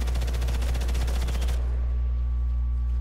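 A light machine gun in the Sniper Elite 5 video game rattles off a dense, rapid burst for about a second and a half, then cuts out, leaving a low hum behind.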